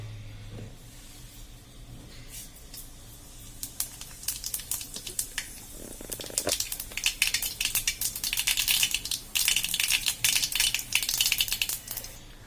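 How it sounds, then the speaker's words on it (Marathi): Cumin and mustard seeds hit hot oil in a kadhai, popping sparsely at first and then building into dense, rapid crackling bursts that grow louder and busier. "जिरं मोहरी छान तडकून झाल्यानंतर तेलात"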